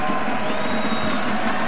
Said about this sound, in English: this is the loudest crowd this building's seen all season long